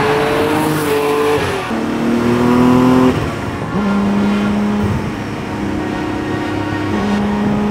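A Ruf CTR Yellowbird, a 1987 Porsche-based sports car with a 6-speed, drives close by with a loud engine note that rises and drops through several gear changes, steady and continuous.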